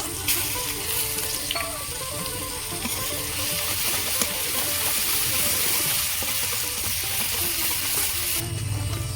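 Garlic sizzling in mustard oil in a pan after fish has been fried in it, a steady close crackling fry with faint stirring scrapes throughout.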